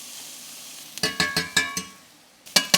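Garlic hits a hot pan with a quick series of sharp, close scraping and sizzling bursts, several in a row, then a brief pause before two more strikes.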